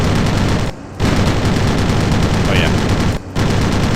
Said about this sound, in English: He's got a tail gun.